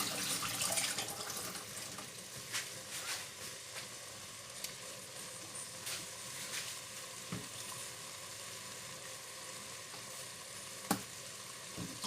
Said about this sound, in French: Entre temps, je vais laver le piment pour l'ajouter.